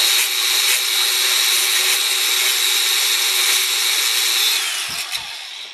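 A cordless brushless FlexVolt tool cuts a metal camera knob part with a steady, loud high-pitched whine that runs for several seconds before spinning down, followed by two brief knocks.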